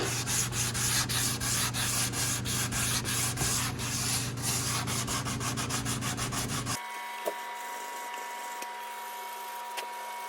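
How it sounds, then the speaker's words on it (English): A sanding block rubs filler on an RC airplane in fast, rhythmic, close strokes, loud and continuous for most of the clip, then stops abruptly, leaving faint background hum and an occasional tap. "This will give me a sanding block, so I'm not distorting it with my fingers when I sand in here."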